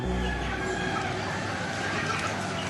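Chickens cluck and crow faintly within a steady busy background, close enough to pick out, with some voices faint in the mix.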